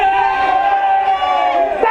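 A live audience crowd cheers and yells in a sustained loud roar of many voices, steady for about two seconds with no break.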